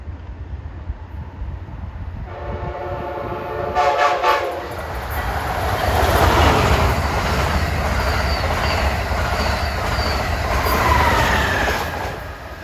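Amtrak train 2166, running Washington to Boston, passes close by, its horn blaring in a couple of loud harmonic blasts over a steady roar and clatter of rolling cars that holds to the end.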